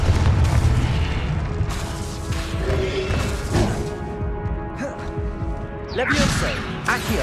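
Confringo fire-spell blasts in Hogwarts Legacy on PS5 land as heavy booms and crashing impacts, one after another, over dense combat noise, with a voice shouting spell names in between.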